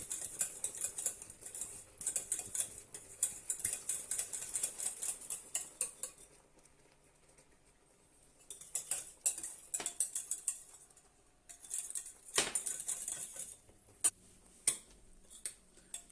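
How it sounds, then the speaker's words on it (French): A spoon stirs caramel into cream in a pan to dissolve it, giving bursts of bright metallic scraping and clinking near the mic, with quieter pauses between runs of stirring. "on mélange bien pour bien dissoudre le caramel dans la crème"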